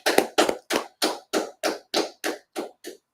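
Group hand clapping in slow, evenly spaced claps, about ten sharp unison strikes at a steady rhythm, gradually growing quieter before stopping, with no talk.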